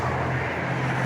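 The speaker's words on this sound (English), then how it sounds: "apologise for the traffic, it's probably going to be a bit noisy." Road traffic passing outdoors, a continuous low rumble and wash of engine noise, steady and moderately loud, with no voices.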